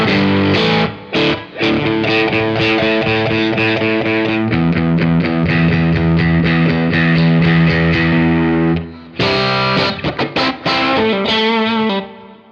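An electric guitar runs through a Red Witch Epiphanious Drive overdrive pedal, playing dense driven chords and sustained distorted notes continuously, loud and close, with a brief break near the end before strumming resumes.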